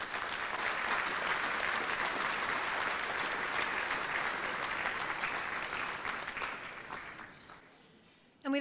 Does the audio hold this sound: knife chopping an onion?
no